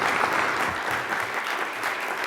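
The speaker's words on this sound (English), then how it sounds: "Another big round of applause for our moderator and panelists." An audience at a conference panel session claps steadily and loudly throughout, a dense continuous wash of many hands with no break and no voices on top.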